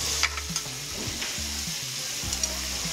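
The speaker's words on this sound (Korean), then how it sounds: "지글지글지글 하는 소리" Steady, close sizzling of meat, seafood and vegetables stir-frying together in a hot pan, crackling continuously with occasional clatters of stirring underneath.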